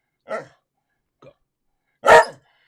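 A dog barks indoors close by, two sharp barks with a faint yelp between them, while a person briefly speaks.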